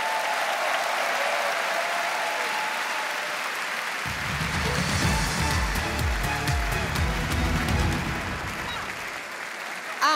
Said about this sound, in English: let's give all the artists a big round of applause